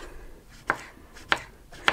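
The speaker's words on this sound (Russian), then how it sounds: "Таким образом нарезаю все овощи." A knife chops vegetables, including zucchini, on a board in three sharp, evenly spaced strikes, close and clear against a quiet background.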